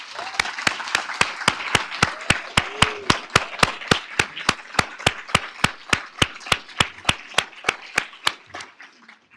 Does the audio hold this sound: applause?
yes